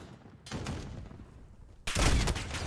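Sniper rifle fire in Call of Duty Modern Warfare, with a sharp shot blast at about half a second, then a second louder, heavier burst of gunfire near the end, both close and loud against quiet game ambience.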